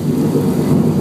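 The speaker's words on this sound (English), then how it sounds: "we shoot water up into the sky, and it falls down naturally" Artificial rain for film sets at Universal Studios Hollywood, made by water shot into the sky and falling back: a loud, dense, steady rushing downpour without pause or talk.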